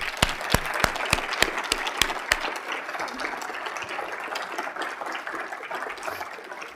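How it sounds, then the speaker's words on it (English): A legislative coffee audience in the Sioux Falls area applauds its elected officials: a run of crisp, evenly spaced claps at the start swells into steady, dense clapping that continues to the end. "Let's give our elected officials a round of applause."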